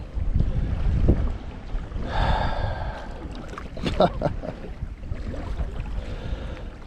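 Gusty wind blows across Greenbo Lake in December while kayaking, a low rumbling roar of air buffeting the microphone that swells and eases in uneven waves, with faint water and boat sounds beneath.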